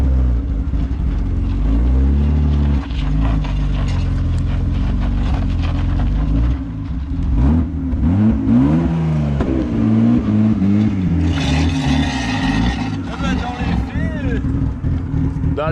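A BMW 320i E36 drives past with its engine note rising and falling over a steady low rumble, fairly loud and close, while people talk over it.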